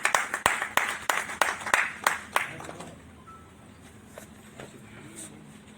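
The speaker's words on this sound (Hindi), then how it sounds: "आप सबकी जोरदार तालियां आनी चाहिए।" An audience at a Hindi book launch and memorial award ceremony claps in distinct, fairly sparse, close-sounding claps that stop after nearly three seconds, leaving quiet room tone.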